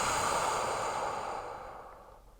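A deep exhale through the mouth, a long, close, breathy rush of air that slowly fades out.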